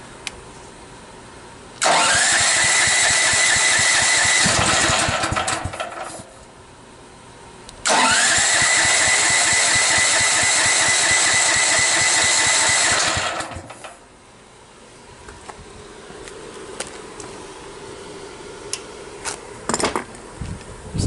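A Champion generator engine is started twice, each time roaring into a loud, steady mechanical run of several seconds before cutting out, then quieter handling noises follow.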